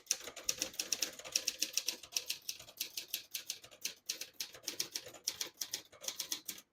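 Typing on a 1966 Hermes 3000 portable typewriter: a steady run of crisp, close key strikes in quick irregular bursts, with light mechanical clatter and no talking.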